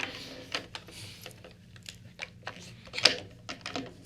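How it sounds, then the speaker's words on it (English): Quiet metallic clicks and slides as the bolt is worked out of a Remington 788 bolt-action rifle, with a sharper click near the end among soft handling noises. "To remove the bolt on a Remington 788, you pull"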